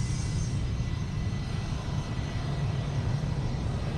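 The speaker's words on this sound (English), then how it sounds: "SydSquad corporate jet." A corporate jet takes off at Sydney Airport, its engines producing a loud, continuous roar with a piercing high edge that holds steady throughout without any break.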